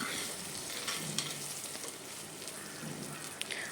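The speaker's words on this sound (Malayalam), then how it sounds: "അത് നന്നായിട്ടൊന്ന് വഴറ്റിയെടുക്കണം ഒരു അഞ്ച് മിനിറ്റ് നമുക്ക് ഇതേപോലെ ഒന്ന് ഇളക്കി കൊടുക്കാം" Tomatoes sautéing in a pan for a Kerala pumpkin theeyal, a dense continuous sizzle with occasional clinks and scrapes as they are stirred, close up and without speech.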